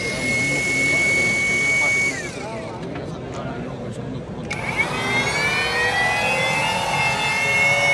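A battery-powered sanding and polishing machine runs at low speed with a high, steady whine. It cuts out for a couple of seconds, then spins back up with a rising tone and keeps running.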